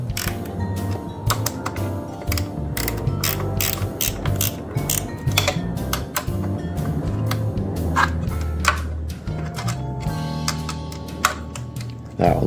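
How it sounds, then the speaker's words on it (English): A ratchet wrench tightens bolts with rapid, continuous clicking, close and fairly loud, over a busy mechanical background. "This one has plenty of room for a wrench."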